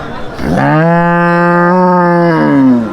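At a cattle market in Manikganj, a cow lets out one long, loud, close moo that swells and holds steady for about two seconds before tapering off.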